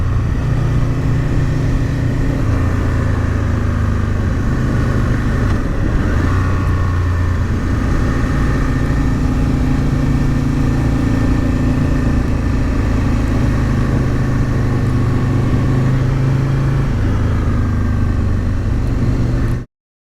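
An Aprilia RSV Mille R motorcycle engine runs loud and close, holding a steady idle with several throttle blips rising and falling over about twenty seconds, with no talking.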